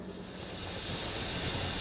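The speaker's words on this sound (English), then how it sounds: "there's a lot of steam coming up around us" Steam hisses steadily from a Ninja Foodi cooker cooking a pork butt roast for pulled pork, a soft, even rush that stays faint throughout the short stretch, with no voices.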